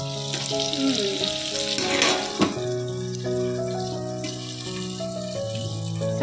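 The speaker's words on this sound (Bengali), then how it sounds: "এখানে হচ্ছে আলু ভাজা," Potatoes frying in a pan in a home kitchen give a steady, fairly loud sizzle throughout, with clinking and stirring noises layered on top.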